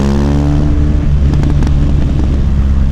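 A motorcycle running on Michelin Road 6 tires, its engine giving a loud, steady harmonic drone that holds throughout at close range, with slight surges in pitch and no voices.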